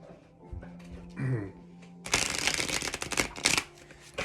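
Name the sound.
shuffling tarot cards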